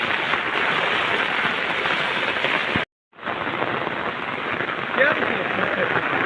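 Heavy rain pours down in a dense, steady roar, close and loud, briefly cutting out before resuming just as strongly.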